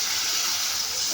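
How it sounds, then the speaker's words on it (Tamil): A tumbler of water is poured into a cooking pot of stirred, salted broad bean curry, giving a steady close splashing gush with no pauses. "ஒரு டம்ளர் தண்ணி ஊற்றிக்கணும்"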